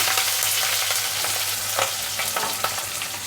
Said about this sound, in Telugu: కొద్దిగా ఉల్లిపాయ ముక్కలు వేగనిద్దాము పచ్చివాసన పోయేదాకా